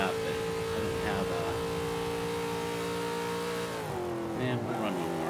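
A 1993 Ford Mustang Cobra races in B Class in Forza 5, its steady mid-pitched engine drone holding at a constant revving tone before dropping and shifting near the end, with a voice talking over it.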